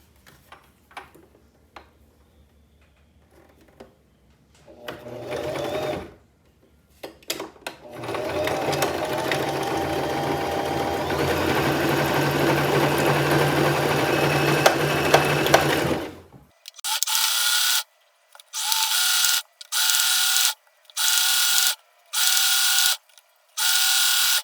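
A home sewing machine stitches along the edge of small fabric scrunchies, first a long steady whirring run, then several short bursts of rapid mechanical stitching separated by pauses, close and loud with no voices.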